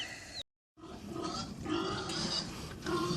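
Vietnamese pigs grunting and snorting close by, a dense run of low grunts after a brief silent gap near the start.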